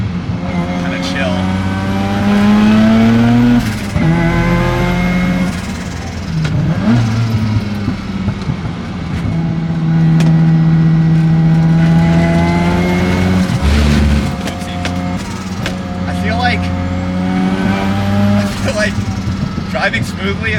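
A Mazda RX7 race car drives a slightly wet track, its engine buzzing and revving continuously up and down through gear changes, loud and close from inside the car, with a voice talking over it.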